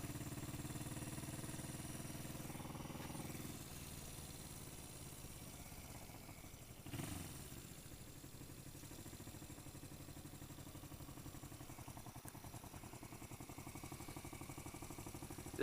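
A 1980 Yamaha XS400 Special II motorcycle engine runs steadily at low revs, a faint mid-pitched drone heard from nearby, with a brief clatter partway through.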